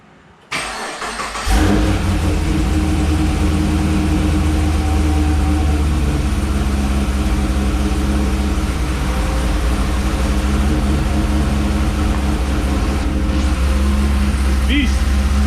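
LSA V8 engine swapped into a G8/Caprice/SS car, cranking and firing up into a loud, deep, steady idle that rumbles close by for over ten seconds, with a brief rev near the end.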